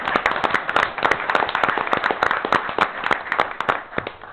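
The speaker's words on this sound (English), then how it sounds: "Go ahead and clap for him, please, if you don't mind." An audience claps at a school board trustees meeting, a dense, steady stream of overlapping hand claps with sharp individual slaps standing out, fairly loud and sustained throughout with no talking.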